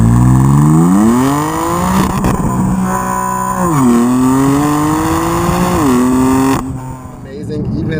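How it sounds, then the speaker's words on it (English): A 2014 BMW M4 Coupe F82 engine in Sport Plus mode, heard from inside the cabin, rises and falls through several revs with a deep droning tone before easing off near the end, loud and continuous. "you start the engine, the sound of the engine, especially in Sport Plus"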